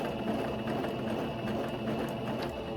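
A sewing machine back-stitches ribbon onto a tutu skirt, giving a fairly quiet, continuous mechanical whir and hum with a faint rapid rattle throughout.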